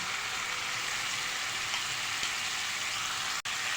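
Dried coriander hitting a hot pan for a koshari sauce gives a soft, continuous sizzle like light rain, steady and fairly quiet throughout with no voices.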